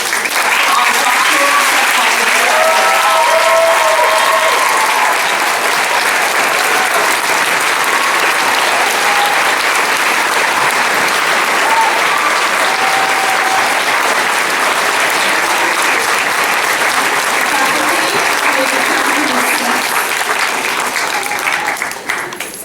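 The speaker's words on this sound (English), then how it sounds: "Please give a round of applause." Long, loud, sustained audience applause at a university commencement ceremony, a dense even roar of clapping with scattered voices and cheers beneath it.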